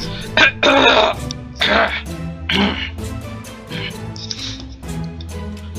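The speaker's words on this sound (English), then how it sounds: "Hold on, I'm gonna clear my throat." A person clears their throat several times in rough, raspy bursts, close to the microphone, with short pauses between them.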